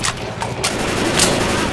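Bursts of shotgun and other gunfire in Left 4 Dead 2, several sharp blasts in quick succession over a dense, loud game background.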